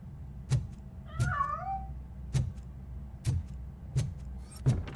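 A cat meows in the video game RoboCop: Rogue City, one clear wavering cry rising and falling over a low ambient hum, set among a regular series of sharp mechanical clicks or thuds.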